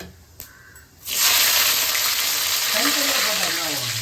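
Small onions and curry leaves drop into a hot pan and burst into a loud, sustained sizzle after a quiet moment, the frying for a coconut fish curry hissing steadily and close by.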